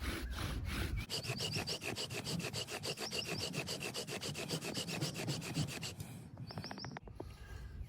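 A bow drill spins against red maple for a friction fire, making rapid rhythmic back-and-forth scraping and rubbing strokes up close, steady for several seconds before slowing to a few scattered final strokes.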